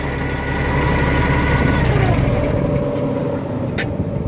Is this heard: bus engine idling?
yes